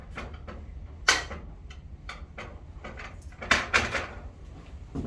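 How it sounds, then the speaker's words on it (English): Sharp knocks and clacks as the end cap is tapped off a Slidetrack bottom bar during skin replacement, several uneven hits close by with light handling noise between them. "Knock the end cap off one end."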